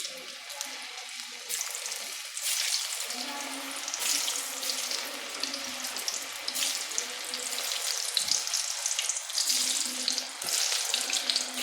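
Plantain slices fry in hot oil with masala, a steady bright sizzle that runs throughout at close range, with brief clinks and stirring.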